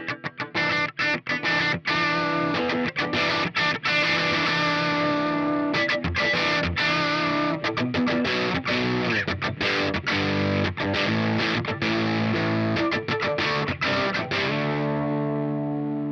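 Electric guitar played through a Warm Audio WA-C1 chorus vibrato pedal driven into overdrive: loud, continuous distorted chords and strums with a shimmering, wavering chorus texture, rhythmic picking throughout and the tone fading at the end.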